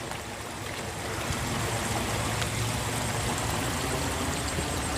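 A river runs at high water on a farm, giving a dense, steady rushing sound that fills the whole stretch, close and loud, with no talk.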